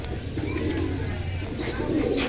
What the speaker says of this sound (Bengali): এটা কি কবুতর ভাই সিলভার কবুতর